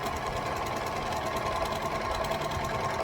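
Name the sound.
overlocker sewing the shoulder seam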